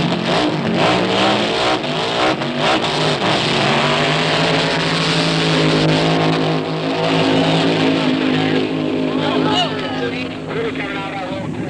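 A drag racing hot rod moves from the staging lights down a raceway strip with a loud, continuous engine roar that shifts in pitch, while a narrator talks over it throughout.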